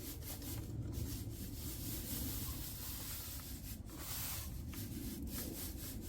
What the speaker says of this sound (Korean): 파종기에다가 고추 씨앗을 이렇게 놓은 다음에 이렇게 전체적으로 이렇게 흔들어 주는 거예요